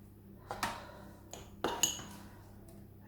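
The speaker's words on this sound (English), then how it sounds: "So this is my Parmesan butter mix. And I just spread a little on the top." A knife clinks and scrapes a few times against a tray and scones while spreading Parmesan butter mix on top, with soft separate metallic taps and no talk.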